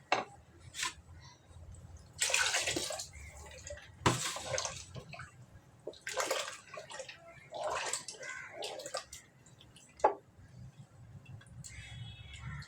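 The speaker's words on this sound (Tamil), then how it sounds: "தேவையான அளவுக்கு தண்ணி ஊற்றிக்கலாம்." Water is poured into a pot of sambar that already holds toor dal cooked with one whistle, in several splashing bursts with quiet pauses between them.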